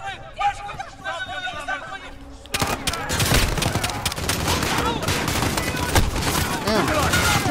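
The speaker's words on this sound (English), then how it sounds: "The gunshots, of course." Gunfire from the Call of Duty Modern Warfare video game erupts as dense automatic bursts and crackling shots over layered game effects, with game voices talking and chattering underneath; quieter dialogue precedes the loud sustained fusillade.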